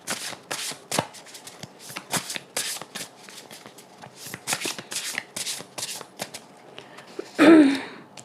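Tarot cards shuffled and handled for a clarifier draw, a quick series of papery riffles and flicks, close and clear, with no talking, ending in a louder brushing burst.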